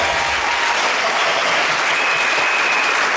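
A church congregation bursts into sustained applause acclaiming Jesus, a dense even roar of clapping that fills the room from start to finish.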